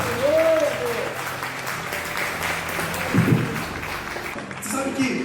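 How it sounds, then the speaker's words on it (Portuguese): Church congregation applauding during a sermon, a sustained round of clapping under continuing voices, with a brief louder burst midway and a short sung or spoken phrase near the end. "Dê mais um aplauso bem forte"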